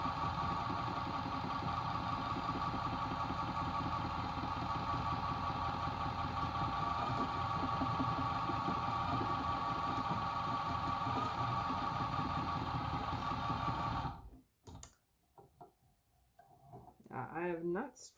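A small electric spinning machine turns fiber into yarn with a steady, close motor hum and a fast ticking rhythm that runs unbroken for about fourteen seconds, then stops abruptly, leaving faint rustles and handling sounds.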